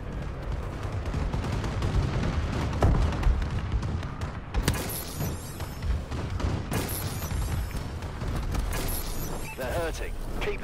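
Heavy booming blasts and rattling gunfire in a Call of Duty: Advanced Warfare multiplayer match, with a friendly bombing run's explosions hitting in dense, loud bursts while players talk over the chaos.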